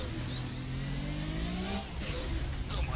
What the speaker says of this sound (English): This turbo's really kicked in there